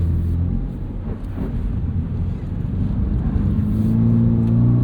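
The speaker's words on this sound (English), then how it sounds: "yeah, we're rolling in second gear right now." Subaru BRZ sports car rolling in second gear around a wet race track on Bridgestone Potenza Sport AS tires, a steady close engine drone from inside the cabin with road rumble, the note rising slightly toward the end.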